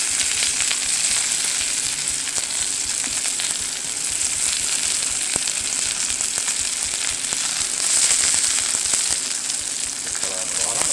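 Chicken sears in a hot frying pan over a gas flame for chicken chasseur, a loud, continuous close sizzle with crackling spatter and faint occasional pan movement.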